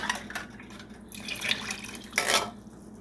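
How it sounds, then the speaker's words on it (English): Water sloshing and dripping inside an empty metal soup can as it is rinsed out, with light tinny clinks and a louder splashing burst near the end, no voices. "Just rinse that can out."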